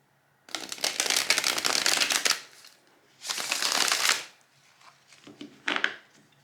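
Tarot cards shuffled and laid out in three separate bursts of dry, papery riffling, the first two long and steady, the last short, with quiet pauses between and no talk.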